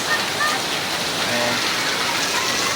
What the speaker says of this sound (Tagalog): Start na po ang tag-ulan dito ngayon.